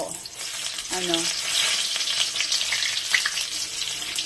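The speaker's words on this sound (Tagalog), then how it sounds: "igisa muna natin ang ating mga spices" Spices sizzle steadily in oil left over from frying milkfish for sinigang na bangus, a loud close crackle with occasional stirring scrapes and a brief tonal sound near the start.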